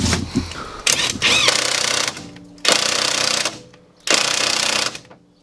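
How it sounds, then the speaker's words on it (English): Impact wrench on the rear suspension top mount bolts of a Golf MK2, fired in three loud, close bursts of buzzing rattle, each around a second long, separated by brief pauses. "it's only 2 bolts, so it's right easy with a rattly gun"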